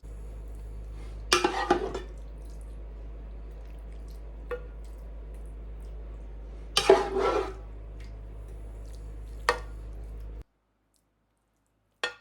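A sausage and cream cheese mixture is spread over cheese and hash browns in a dish, with two bursts of scraping and squishing and a few soft utensil clicks against a quiet background.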